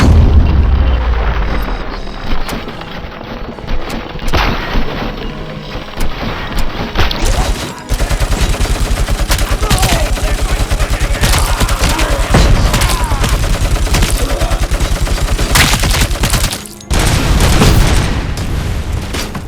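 Machine gun fire in the RoboCop: Rogue City video game, loud dense bursts of rapid shots with booming impacts and crashes, nearly continuous with brief pauses.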